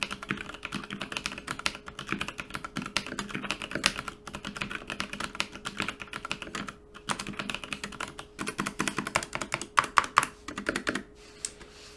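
Close-miked typing on a Logitech G413 SE mechanical keyboard with brown switches and an aluminium top. Rapid, continuous clacking keystrokes come in uneven bursts with brief pauses, and there is no talking.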